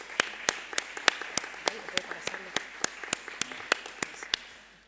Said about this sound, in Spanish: Yo creo que merece un aplauso.